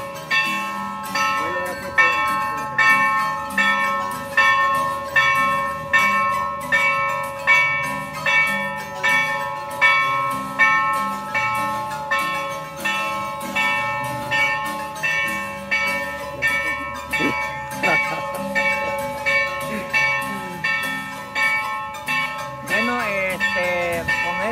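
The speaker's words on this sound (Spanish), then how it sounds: "hermosos toques de la campana de acá de la iglesia de San Ramón" Church bells of the church of San Ramón in Cuscatlán, El Salvador, ring during a town festival with steady, rhythmic strokes and a sustained ringing hum throughout, with faint voices in the background.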